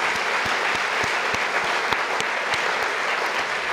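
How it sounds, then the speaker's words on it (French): A conference audience at a corporate forum's closing speech claps in a full, sustained round of applause, with a few sharp, regularly spaced claps standing out near the listener above the steady crowd. "on peut les applaudir"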